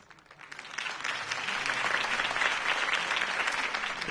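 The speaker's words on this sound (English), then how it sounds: "If only Mr. Wayne, my campaign's largest backer, could have heard that applause" A crowd applauds a Harvey Dent campaign speech in the Telltale Batman video game, a dense, steady wash of clapping that swells quickly and holds at a loud, even level.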